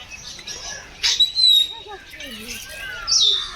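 Assorted birds at Alipore Zoo near the aviary give scattered chirps and whistled calls, a few brief clear notes standing out over a soft outdoor background.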